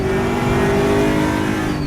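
ESR Aquila race cars roar past at the Monza circuit, a loud, sustained engine drone at high revs with the pitch shifting as several cars run close together, under no talk.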